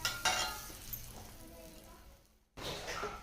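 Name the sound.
bread toasting in butter in a pan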